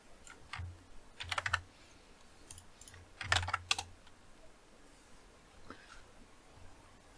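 Typing on a computer keyboard in quiet bursts, clusters of close key clicks separated by short pauses, faint and intermittent.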